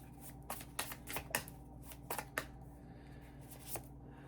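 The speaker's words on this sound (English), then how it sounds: "you saw me shuffling" Tarot cards are shuffled close by in quiet, with a string of soft, crisp riffling slaps and flicks at irregular intervals over a faint background hum.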